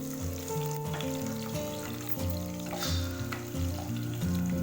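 Green chillies frying in hot oil for an Assamese fish dish with papaya and potato: a steady, busy sizzle with crackle close by, no voices.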